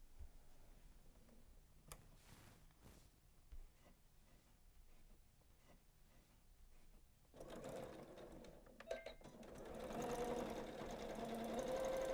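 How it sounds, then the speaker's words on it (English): A Janome sewing machine stitches pieces of fabric for a bag. Its motor starts with a steady mechanical whir that grows louder and denser toward the end, with a few sharp ticks early on and no talking. "Now I'm going to sew the other side just the same."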